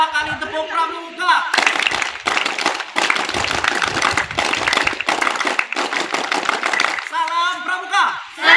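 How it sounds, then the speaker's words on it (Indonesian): Pramuka scouts in Belitung Timur clap in unison, loud sharp bursts of group clapping filling the middle of the clip, with people speaking and voices before and after. "Dua kali tepuk Pramuka."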